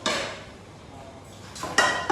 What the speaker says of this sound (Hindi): नॉन स्टिक पैन लगाइए ना प्लीज